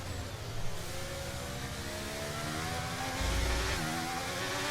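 Formula 1 race car engines in the F1 23 video game whine at high pitch, with rising and falling tones as cars race past and shift. The sound is steady, fairly quiet and continuous.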